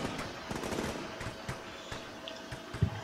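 Rapid bursts of machine-gun fire and scattered rifle shots crackle in the Combat Mission video game, distant-sounding and irregular, a dusk marine ambush battle with several quick volleys and no talk.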